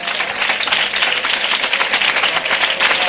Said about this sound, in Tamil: ஜோர கர்த்தருக்கு ஒரு கைத்தட்டு கொடுங்க பாக்க.